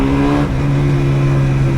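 A Yamaha RD400 motorcycle's two-stroke engine, close and loud, holding a steady buzzing idle with a brief dip and blip of revs partway through.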